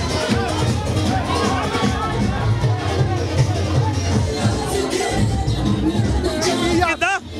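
Crowd chatter inside a busy Glasgow nightclub, a loud dense babble of many overlapping voices with music underneath.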